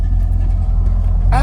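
A 2008 C6 Corvette's LS3 V8 idles nearby with a low, even, burbling rumble, and a voice briefly breaks in near the end.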